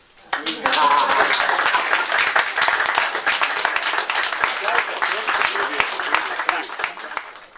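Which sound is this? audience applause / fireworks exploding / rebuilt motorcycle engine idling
audience applause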